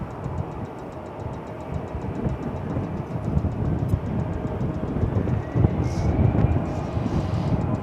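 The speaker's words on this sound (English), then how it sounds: "A321 just touched down from Salt Lake City, American Flight 1214" An American Airlines Airbus A321 landing at DFW Airport after a flight from Salt Lake City, a steady broad engine roar that grows louder over several seconds, heard alone at a distance.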